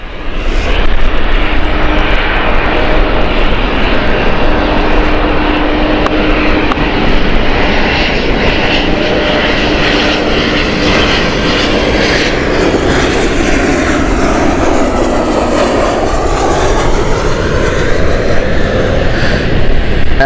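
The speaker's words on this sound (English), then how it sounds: "This is obviously the Lisbon flight here from TAP." A TAP Air Portugal airliner arriving at Gatwick from Lisbon, its loud engine roar sustained and close, with a whining tone that sweeps and shifts as the aircraft passes.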